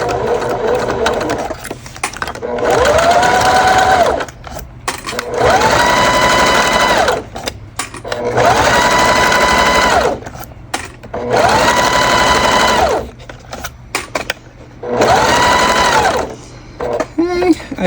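A sewing machine stitches a bag frame slowly in bursts of about two seconds with short pauses between, five runs in all, close and loud, with a person talking in between.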